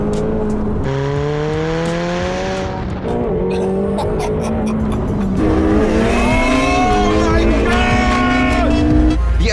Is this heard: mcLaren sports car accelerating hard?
yes